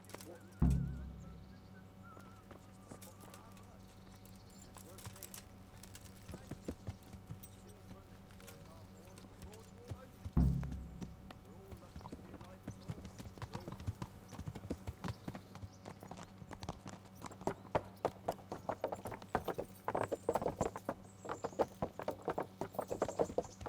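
Horse hooves clip-clop steadily in the medieval game Kingdom Come: Deliverance, a faint, regular patter that grows denser and louder over time, with brief voice lines and a low sustained hum in the background.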